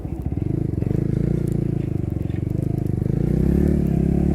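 Yamaha R15 sport motorcycle downshifting while riding, its engine note steady and close with a pulsing, stepped rhythm as the gears drop, loud and continuous throughout with no talk.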